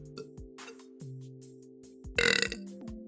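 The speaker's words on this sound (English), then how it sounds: "That was a pickle burp right there." A loud, rasping human burp from someone who has just eaten a gone-off pickle, one sustained belch erupting midway over low steady background tones and scattered clicks.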